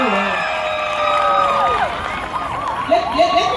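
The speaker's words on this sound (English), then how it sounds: "Give them another round of applause," An audience cheers and claps for a choir at a live broadcast event. Whoops and raised voices rise and fall over a brief, busy stretch of crowd noise.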